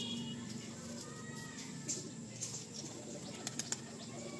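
A male pigeon at a pigeon sale in Garia, Kolkata, coos softly while being handled, with a few sharp wing flaps over steady background noise.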